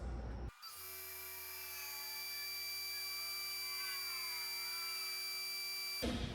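Diesel fuel injectors fire on a test bench during warm-up, a sustained high-pitched whine with steady tones that starts abruptly after a short pause and cuts off near the end.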